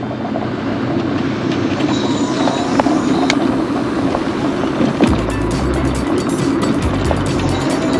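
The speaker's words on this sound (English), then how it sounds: "Pardon the diesel engine." A diesel engine runs steadily at a lakeside campground park, a continuous low rumble with a rattling edge that stays loud throughout, deepening into a heavier throb near the end.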